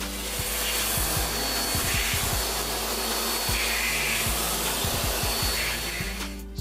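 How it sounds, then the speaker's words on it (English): Vacuum cleaner sucking up old bathtub caulk residue and shavings, a loud continuous motor whine and airflow roar close by, with small rattling clicks of debris being drawn in throughout. "now I'm going to use a vacuum to get all of the residue and the shavings up"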